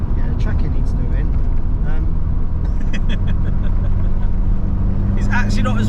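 An 80s Fiat Uno Turbo drones steadily from inside the moving car, its loud dump valve hissing in sharp bursts near the end while people talk over the engine.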